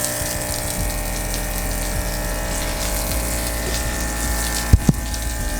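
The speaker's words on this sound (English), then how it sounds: "Water skeeting out at you." Steady gushing spray of water driven by a pump from a 4-gallon tank on a Tundra adventure build, a continuous wet hiss with two brief thumps near the end, no talk.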